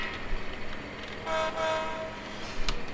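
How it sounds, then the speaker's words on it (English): A Mopac locomotive on a model railroad approaches and takes the siding to pass, giving a low rumble with a short horn tone in the middle and a brief sharp click near the end. "now as our approaching train comes into view, now they already know they're going to take the siding"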